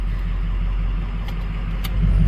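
A Ford 6.0 Powerstroke diesel engine runs steadily with the turbo switched off, a loud, close, even low rumble throughout with a few faint ticks and a slight swell near the end.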